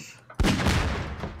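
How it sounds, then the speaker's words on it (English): A single loud gunshot cracks out in Garry's Mod, a sudden close burst followed by a brief rumbling tail. "I hear a gunshot."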